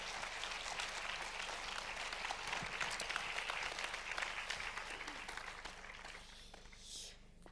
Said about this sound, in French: je vous demande d'applaudir très fort Anna Spaccio